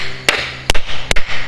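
Three sharp hammer blows strike a carriage bolt into wood while a portable folding sawbuck is being built, evenly spaced and close, with brief ringing after each hit.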